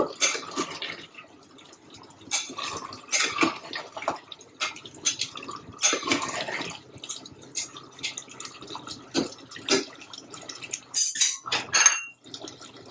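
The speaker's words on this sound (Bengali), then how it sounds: "একটু গোলমরিচের গুঁড়া দিয়ে দিব, একটু নেড়ে দিব।" A spoon scraping and clinking against a pot of duck curry as pepper powder is stirred in, giving irregular metallic taps and scrapes with soft wet sounds, fairly quiet and close, no talking.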